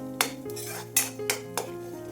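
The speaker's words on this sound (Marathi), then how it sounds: "हे वाटण सारखं हलवत राहायचं म्हणजे कढईला लागणार नाही." Metal spoon scrapes and clinks against a wok while spice paste is stirred in oil, five or six distinct knocks spaced irregularly over faint background hum, no voices.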